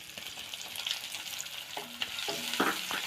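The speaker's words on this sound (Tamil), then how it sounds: "வெங்காயம் வதக்கட்டும்." Onions sautéing in hot oil with bay leaf, clove and cinnamon, a soft continuous sizzle broken by a few sharp spoon scrapes and knocks against the pan toward the end.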